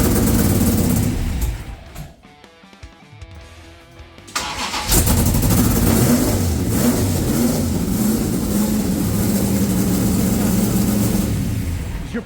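Car engine cranks and catches after a brief quiet gap, then runs up in loud, rough revs and settles into a strong sustained roar, with no voices over it.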